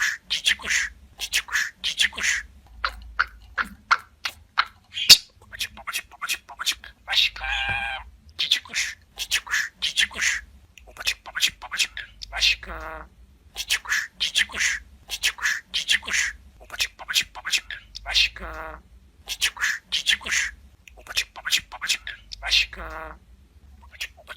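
Pet budgerigar chirps and warbles in rapid bursts alongside mimicked talking phrases, a close, busy stream of chattering calls and squeaky speech-like notes with short pauses.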